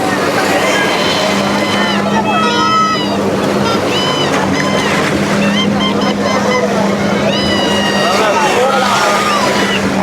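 A racing boat speeding across the sea off Jaffna: a steady engine drone under wind and splashing water, with people talking loudly over it throughout.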